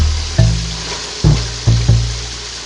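Washed moong dal tipped into a pan of fried spices, giving four dull, soft thuds with short sizzling bursts, close by and fairly loud, with no talk.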